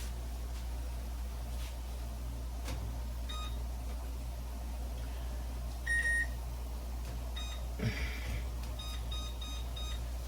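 A kitchen timer beeps in short bursts of tones while a noodle casserole cooks, fairly faint over a steady low hum of kitchen background noise, with a couple of separate beep groups spread across the stretch.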